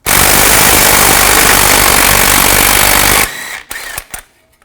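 A powered impact tool rattles loudly and continuously for about three seconds while removing a driveshaft bolt on a 2008–2020 Nissan Rogue, then cuts off and leaves a few faint clanks.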